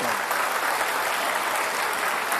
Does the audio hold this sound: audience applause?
yes